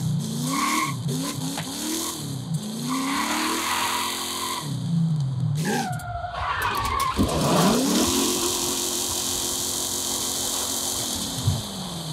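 Off-road driving in Forza Horizon 5: a car engine revs and drones continuously, pitch rising and falling with gear changes, tyres skidding and scraping over rough ground, loud and close throughout.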